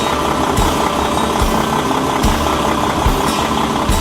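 A 2014 Kenworth W900 truck's Paccar MX-13 455-horsepower diesel engine idles with a steady low rumble and a rhythmic knocking pulse, close and continuous.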